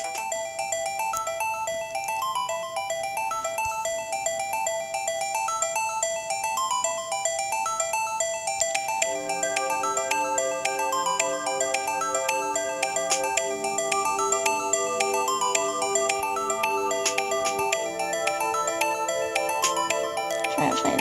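Phone ringing on redial in the Ace Attorney Phoenix Wright game, a repeating electronic ringtone melody looping steadily for about twenty seconds, its pattern shifting midway, clear and alone.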